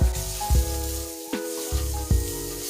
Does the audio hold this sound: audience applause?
no